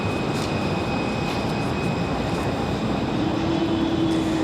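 An Air France airliner's engines run on the ground at Raleigh-Durham airport, a steady, even roar with a faint high whine above it, unbroken and alone throughout.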